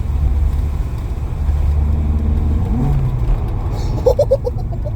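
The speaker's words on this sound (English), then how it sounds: "it gives you that same growl as you're revving the engine" A car engine fitted with a cold air induction kit growls and revs loudly, the pitch climbing in a rising sweep before a few sharp blips near the end, heard up close.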